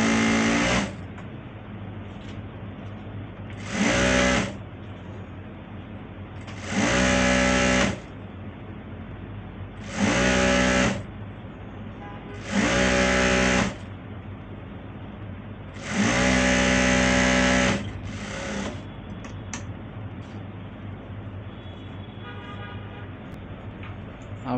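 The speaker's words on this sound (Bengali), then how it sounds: "রাবারের সাইডে 1/2 ইঞ্চি বাদ দিয়ে একটা চাপ সেলাই মেরে নেব এভাবে" A sewing machine top-stitches an elastic waistband on pajama trousers in repeated bursts of a few seconds each, about seven runs separated by short pauses, close and clear.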